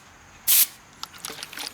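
A sprayer nozzle on a tank gives one short, loud hiss as it blasts wood ash. Faint ticking and rattling follow in the otherwise quiet surroundings.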